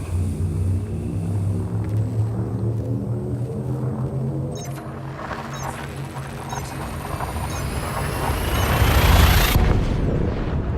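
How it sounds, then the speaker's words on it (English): A spaceship's frame shift drive charges in a space video game, a loud steady droning hum with layered engine tones that swells and rises toward a rushing peak near the end. "Frame shift drive charging."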